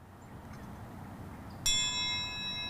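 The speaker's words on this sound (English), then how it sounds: "it's a little difficult to ring the bell" A single memorial bell for a lost U.S. submarine strikes once after a quiet stretch, its clear metallic tone ringing on and slowly fading.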